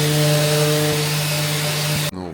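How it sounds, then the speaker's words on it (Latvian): A power sander works a wooden playoff board with a steady, loud droning whine that holds unbroken, then cuts off abruptly near the end. "treneris kā reiz viņu tagad slīpē šo te playoff dēlīti"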